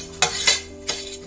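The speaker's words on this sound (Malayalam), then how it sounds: "ഇനി നമുക്ക് ഇളക്കി കൊടുക്കാം" A jackfruit mixture gets stirred in a pan over low heat: two or three sharp, close spatula scrapes and clatters with brief gaps between them.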